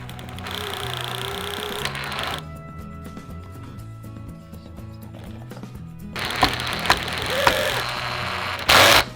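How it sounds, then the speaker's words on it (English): A power drill whirs in repeated short runs, driving screws into hinges with pauses between, close by, ending in a louder burst. "I will attach hinges now with screws and a drill."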